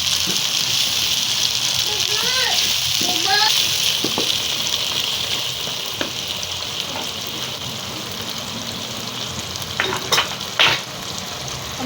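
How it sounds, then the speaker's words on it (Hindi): Milk goes into a sizzling pan of aloo matar methi curry, and a loud, continuous frying hiss carries through, with a few voices and clinks near the start and end. "अब हम इसमें ना थोड़ा सा दूध डालेंगे।"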